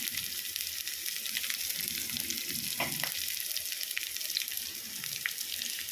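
Curry leaves hiss and crackle in hot oil for a sardine fish curry, a steady, moderately quiet sizzle with a few brief pops and no voices.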